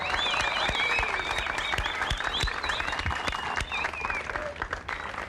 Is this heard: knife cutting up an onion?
no